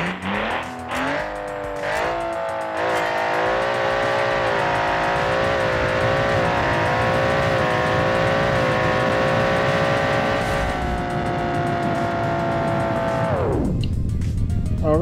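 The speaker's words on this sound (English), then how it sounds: "under the hood or under the bonnet we have a Bshar 6 twin turbo engine making 1889 horsepower" A 6.6-litre Bshar 6 twin-turbo engine making 1889 horsepower in a BeamNG.drive drag car revs hard and holds a loud, rising, steady drone for many seconds, then cuts off abruptly near the end, with no talk over it.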